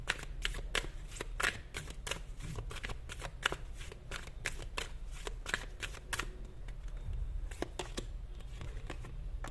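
Tarot cards shuffled steadily by hand, a rapid run of crisp riffling snaps close by, continuing without a break.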